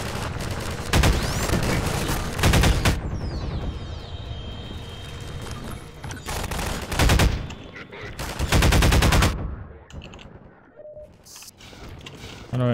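Rapid bursts of automatic gunfire from Half-Life 2 crackle in repeated volleys, loud and dense, with mechanical whirring and a voice occasionally heard between the shots.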